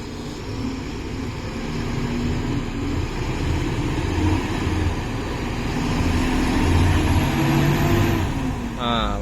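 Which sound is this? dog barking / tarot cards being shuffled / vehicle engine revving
vehicle engine revving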